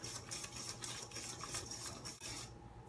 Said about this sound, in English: what you're going to do with this is just whisk everything up together